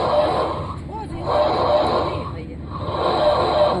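An animatronic dinosaur's deep, growling roar rises and falls in long bursts over a steady mechanical hum, loud and close.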